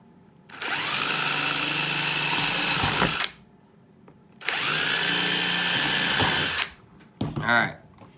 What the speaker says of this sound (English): I'm letting the drill bit actually do the work for me